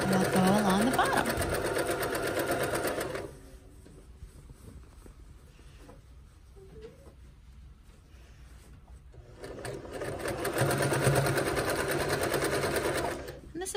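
A sewing machine stitches along the bottom edge of fabric in steady, rapid bursts, loud at first, pausing through a quieter middle stretch, then running again near the end.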